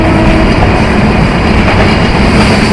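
The Banalata Express runs from Dhaka to Rajshahi with a loud, steady, rumbling roar of wheels and carriages, close and continuous with no talk.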